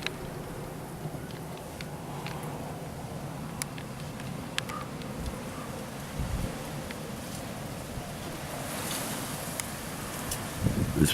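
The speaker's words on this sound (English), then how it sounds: "The wind doesn't stop. It slows down, but it doesn't stop, doesn't pause." Strong desert wind storm at Cal-Nev-Ari, Nevada, in November: a constant, dense rushing roar that never pauses, with scattered ticks and rattles of debris and a gust building near the end.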